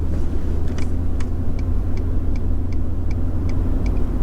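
A car accelerates gently up to about 50 km/h with a steady low engine and road rumble. Faint regular ticking sounds over the drone, and no one speaks.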